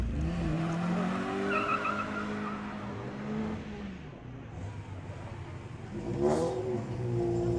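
A turbo rally car racing through a slalom course, engine revving and dropping through gear changes with tire squeal and skidding as it swings through the gates, heard from outside, loud and continuous.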